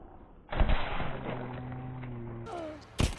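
A gunshot goes off in The Walking Dead Saints & Sinners VR game as a sharp, loud crack near the end, following a stretch of droning in-game ambience and a tonal whine.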